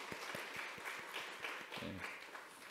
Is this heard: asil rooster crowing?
no